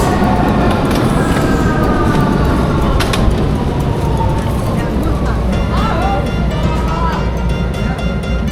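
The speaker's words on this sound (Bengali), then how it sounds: "মেট্রো আসছে ভিয়েনার, অস্ট্রিয়ার মেট্রো।" A Vienna metro train rumbles steadily in a station, a loud continuous low roar with faint squeals and clunks, while voices talk over it throughout.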